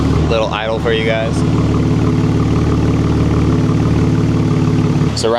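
Ram truck with an AWE exhaust idling close by, a steady, deep and raspy rumble that runs throughout, with a person talking briefly over it near the start.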